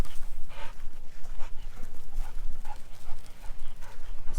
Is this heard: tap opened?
no